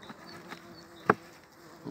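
Bumblebees raiding the edge of a weakened honeybee hive in winter give a low insect buzz with one sharp, loud close pass of a bee midway and another drone building at the end.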